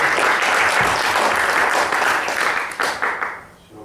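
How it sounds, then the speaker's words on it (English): Audience at a Bitcoin conference in Amsterdam applauds after a talk, a loud and dense burst of clapping that fades into a few scattered claps at the end. "please a big applause for Bas Wisselink."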